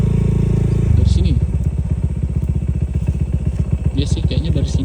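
A motorcycle engine chugs in a fast, loud, steady pulse as the bike rides over a rough, damaged hill road. Faint rattles and clatter cut through now and then.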